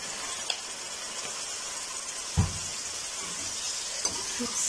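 Tomatoes with soy sauce sizzle softly in a hot pan as a spoon stirs them, with a low steady hiss and a few brief scraping knocks.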